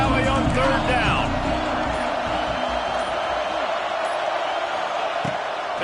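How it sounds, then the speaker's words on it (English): A big college football stadium crowd in Happy Valley roars on third down, a dense, sustained wall of noise with whoops, under a commentator's voice. "The noise from this big crowd in Happy Valley on third down."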